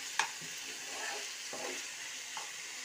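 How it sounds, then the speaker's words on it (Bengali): Potatoes frying with spices in a pan give a soft, steady sizzle, broken by a few stirring scrapes and light clinks, with no voices. "খুব সুন্দরভাবে মশলা যতক্ষণ না ভাজা হচ্ছে আলুটা দিয়ে ভেজে নিলাম।"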